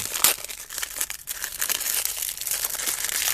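A hand feels through the thin plastic bag of a blind-pack Looney Tunes Lego minifigure, making close, continuous crinkling and rustling with sharper crackles, no voices.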